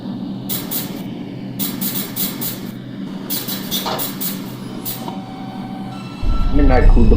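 A New York City 2 subway train runs along the line, with a steady rumble and a series of sharp, rhythmic rail clacks, under radio chatter and conversation between crew members.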